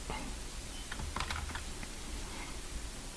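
Computer keyboard keys are pressed during image editing, a handful of soft, irregular taps over low background hum, with no talk.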